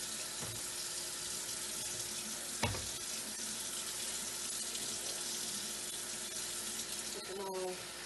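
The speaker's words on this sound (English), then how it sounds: "we need to wash anything that comes into the house, especially these days. So get it nice and wet." Running tap water splashes over spring greens being washed in a kitchen sink, a quiet steady stream with a couple of brief louder knocks and clatters.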